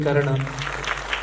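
A brief burst of audience clapping at a Marathi film trailer launch follows a voice. The applause is scattered and moderate and lasts under a second.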